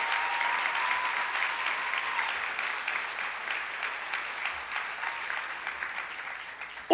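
Sustained applause from an audience at the closing ceremony of a twentieth academic congress, a steady dense patter of clapping that continues throughout and tapers slightly toward the end.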